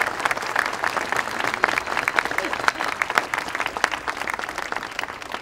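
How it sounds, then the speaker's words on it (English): An audience at a unity rally at Delaware Legislative Hall breaks into sustained applause, a dense, steady patter of many hands clapping throughout. "So if we can give them a great round of applause."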